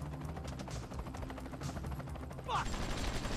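Gunfire in Grand Theft Auto 5 gameplay, a dense crackle of shots mixed with game noise and a brief whooshing effect, fairly loud throughout.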